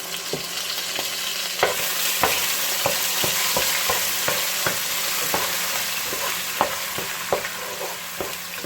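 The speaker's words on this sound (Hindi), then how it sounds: "प्याज को हम लोग हल्का ब्राउन होने तक इसी तरह फ्राई करेंगे" Onion paste sizzles steadily in a pan for a halwa puri chickpea curry, a broad hiss broken by irregular sharp clicks and scrapes of stirring throughout, with no voices.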